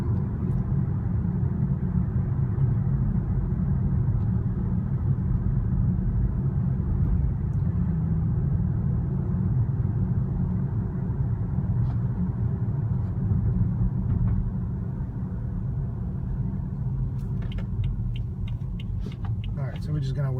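A 2016 BMW 340i is driven on a road, its steady low cabin rumble and engine drone continuing evenly throughout, easing slightly toward the end.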